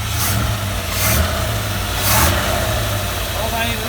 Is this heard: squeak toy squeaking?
no